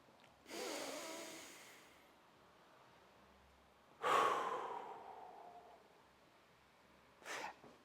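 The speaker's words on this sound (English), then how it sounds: "Let's do one more deep breath and breathe with me as you watch this." Three slow, deep breaths, each a long airy inhale or exhale rising and fading, close to the mic in a quiet room, with gaps between them and no talking.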